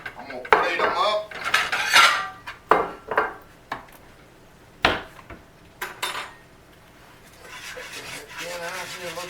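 Fried pork chops are lifted from a skillet and plated, giving a run of loud metal clanks and scrapes of utensil against pan and plate, separated by short pauses, with a softer rattling at the end.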